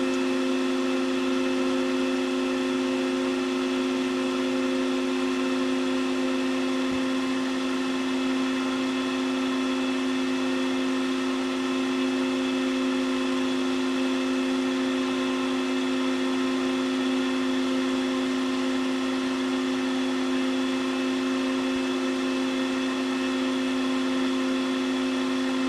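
Stepper motor running on an encoder tester, a steady tonal electrical whine with a constant pitch and layered harmonics, unchanging and close for the whole stretch, with no voices.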